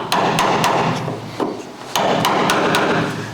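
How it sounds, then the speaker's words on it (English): Sharp wooden stick taps loosening chrome trim from the drip rail of a 1970 Chevrolet El Camino, a rapid series of close, crisp knocks in uneven bursts with a short pause midway. "take your trusty stick, get right to the back edge so that you can kind of tap on it and get it loosened up"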